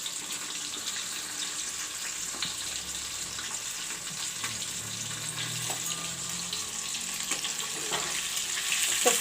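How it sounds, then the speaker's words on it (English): Fish sizzles in hot oil for a masala curry, a steady bright crackling hiss with scattered sharp pops and a faint low bubbling underneath, constant and close throughout. "The fish is frying brown"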